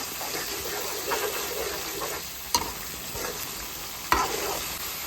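Cooked gongura leaves being stirred into a hot oil tempering in a pan, steady frying sizzle with soft scraping of a spoon and two sharp clinks against the pan, close and alone.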